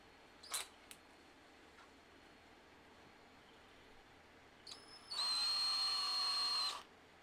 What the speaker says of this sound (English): I'm actually going to try a little bit larger drill bit